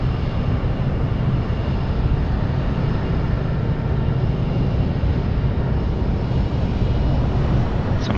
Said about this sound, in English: Some airplanes coming in,